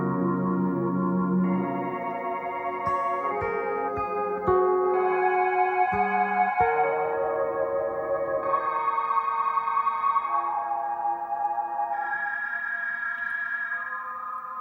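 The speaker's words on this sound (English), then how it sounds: "I passed the granular modules through a fairly light reverb" Layered, shimmering synthesized tones from granular modules on an Empress ZOIA pedal, with grainy, pitch-shifting textures and a soft light-reverb tail, sustained throughout at steady loudness.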